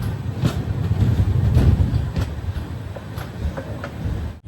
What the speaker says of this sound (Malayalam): കന്യാകുമാരിയിൽ നിന്നും കറക്റ്റ് 11 മണിക്ക് തന്നെ രാമേശ്വര എക്സ്പ്രസ് ഇതാ പുറപ്പെട്ടു